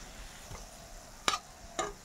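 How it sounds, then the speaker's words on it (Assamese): Egg nankhatai biscuits fry in oil over a low flame with a faint steady sizzle, broken by a couple of sharp scraping clinks from a utensil stirring the pan, and no voices. "একদম ল' ফ্লেমত ভাজি আছোঁ এইটো মই"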